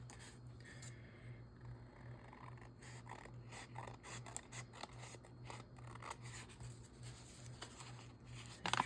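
Scissors snip through paper for a junk journal, making a close, steady run of crisp cutting strokes and rustles over a faint background hum, with no talking.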